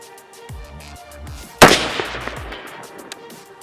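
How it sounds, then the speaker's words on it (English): After a brief spoken remark, a rifle fitted with a Vortex Spitfire 3x sight fires one loud, sharp shot at a 12-by-12-inch steel plate 250 yards downrange. The blast is followed by a decaying echo and a faint distant ring. "Got a steel plate, 12 by 12 inches, downrange over there, and I'm going to take some shots at it with my Vortex Spitfire here."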